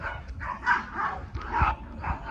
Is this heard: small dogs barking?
yes